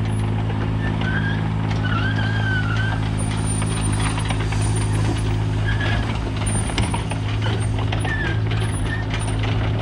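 A mini excavator drives along under its own power, its diesel engine droning steadily and close while metal tracks clank, rattle and squeak intermittently throughout.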